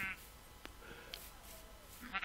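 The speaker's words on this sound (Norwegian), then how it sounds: "Der borte en haug med sauer." Sheep bleating in the video game Minecraft, a couple of short, faint bleats at the start and end over quiet game ambience.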